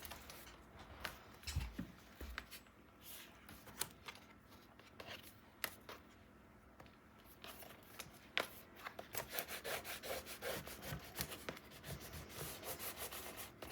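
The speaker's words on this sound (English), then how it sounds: "Give it a good burnish." Paper pieces on a 9 x 9 mini album page are rubbed down with a burnishing tool, giving soft, close scraping and rubbing strokes that grow denser and steadier toward the end, with no talking.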